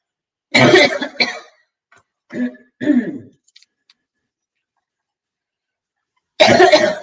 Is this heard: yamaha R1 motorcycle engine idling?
no